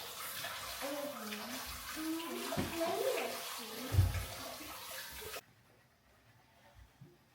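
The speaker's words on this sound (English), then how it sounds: "Let me wash my hands and get my tray" Tap water runs steadily while someone washes their hands before cooking, a close, continuous splashing hiss that stops abruptly near the end; voices, including a child's, are heard over it.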